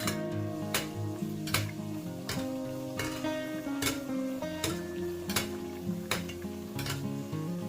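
Vellai paniyaram batter fries in oil in a pan, keeping up a steady bubbling sizzle. Sharp metallic taps of a utensil land at a fairly even pace over it, close by, with no speech.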